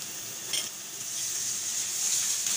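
Garlic ginger paste frying with onions in a pan, a steady close hiss and sizzle with a few brief stirring scrapes, no voices.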